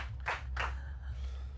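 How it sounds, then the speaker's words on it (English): Two sharp hand claps in quick succession, close and fairly faint, at the Paris Games Week Anthem gameplay show, over a low steady hum. "Round of applause for Kajuki, ladies and gentlemen."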